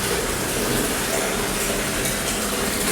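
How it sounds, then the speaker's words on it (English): Water gushes steadily into a jacuzzi tub in a house under construction, a loud, even, hissing rush that continues unbroken for the full few seconds. "Water going into the jacuzzi."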